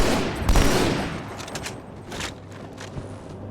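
Grenades detonating in Halo 2 Anniversary on the Outskirts map: a loud, close burst followed by a tail of rumbling blasts and scattered gunfire, with no talking.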